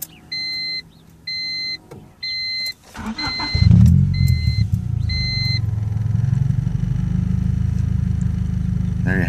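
Inside a car, several electronic dashboard chimes beep in a row, then the engine cranks and catches and settles into a steady, close idle that runs on alone.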